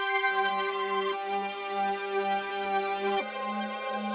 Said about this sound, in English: I reversed the audio clip. I pitched it up like 1000 cents.